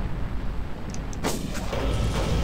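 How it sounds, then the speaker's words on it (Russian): A single gunshot goes off in the video game Far Cry, a sharp loud crack around the middle of a noisy game soundtrack, with a dull boom trailing after it. "последний раз сейчас выстрелю"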